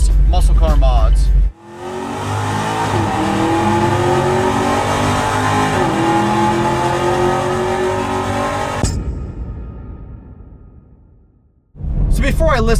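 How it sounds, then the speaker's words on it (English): A Chevrolet Camaro muscle car engine roars loudly and steadily as the car drives and accelerates on a December day, then fades away into the distance, with someone talking briefly before and after. "I decided to take the Camaro out"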